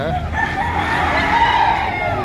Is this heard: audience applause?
no